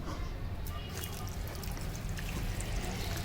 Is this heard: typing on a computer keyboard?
no